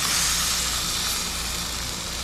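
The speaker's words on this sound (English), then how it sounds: "Got that nice grill sizzle going on, like our mat." Bonnethead shark pieces sizzling on a hot grill, giving a steady, loud broadband hiss and crackle that holds evenly throughout without pause.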